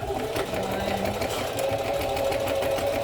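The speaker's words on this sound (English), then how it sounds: "You're gonna sew along the top, just 2 lines" A sewing machine stitches two lines along the top of a piece, running as a steady, continuous motor whir and needle rattle from start to finish, with a voice talking over it.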